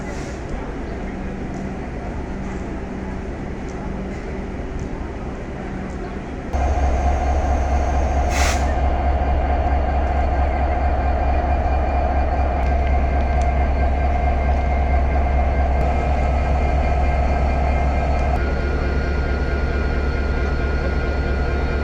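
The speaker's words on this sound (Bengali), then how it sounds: "কিছুক্ষণের মধ্যে আন্তনগর ট্রেনটি জয়দেবপুর স্টেশন থেকে ছেড়ে যাবে" An intercity express train pulls out of Joydebpur station with a steady heavy rumble that swells suddenly and stays loud, and a sharp short horn-like tone partway through.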